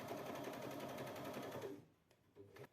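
A sewing machine running a seam from a lining edge to a marked line on a small fabric gift pouch, a steady, close whir that stops after about two seconds, followed by a few light clicks.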